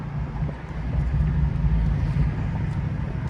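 A Dodge Hellcat Redeye widebody convertible, roughly 1,000 horsepower and set to sport mode, rumbling steadily with a deep low engine drone and wind buffeting, no voices over it.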